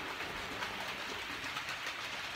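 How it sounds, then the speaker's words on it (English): The steam locomotive Princess Elizabeth hauls Pullman cars on a luxury passenger train, a steady, close rushing roar of the train passing with a faint rhythmic rattle running through it. "pulling Pullman cars on a luxury passenger train."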